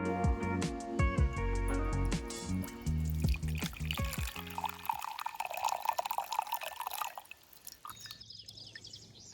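A drink poured into a glass, liquid splashing and gurgling with bright clinks at the start, then a steadier trickling fill that tapers off toward the end, close and fairly loud.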